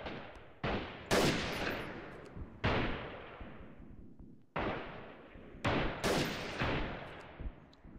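Gunfire in the Freeman: Guerrilla Warfare game during a siege, a string of loud, sharp shots spaced irregularly with booming echoes trailing off between them.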